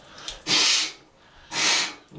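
Two forceful nose blows after a saline nasal rinse, each a loud close airy burst about half a second long separated by a short pause.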